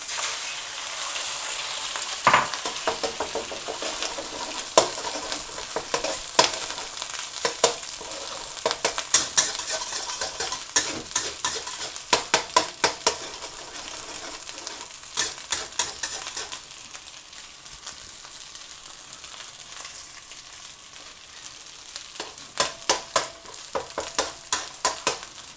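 Eggs frying in oil in a pan for egg fried rice, a constant soft sizzle broken by frequent sharp clicks and scrapes of a utensil stirring against the pan, close with no talking.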